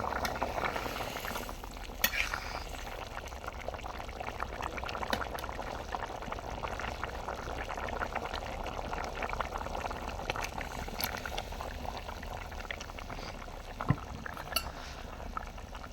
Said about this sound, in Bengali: তো বলক উঠে গেছে